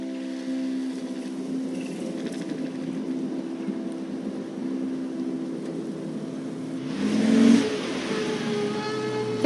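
A car driving in the video game Life is Strange gives a steady engine drone throughout, swelling briefly near the end as if accelerating, with no talk over it.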